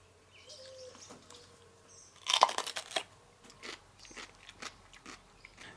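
Crunchy, crackling bites and chewing on a dried ancho chile pepper, close and fairly quiet, clustered in a brief burst with softer chewing afterward.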